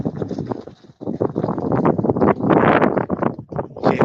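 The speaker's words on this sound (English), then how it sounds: "it's windy as hell out here." Strong outdoor wind buffets a microphone in loud, irregular bursts of low rumbling noise, nearly continuous with brief lulls.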